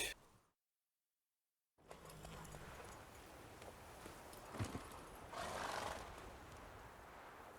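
Roach, the horse in The Witcher 3, gallops with a steady run of hoofbeats and gives a neigh, heard fairly close after a short silence, under a low game ambience.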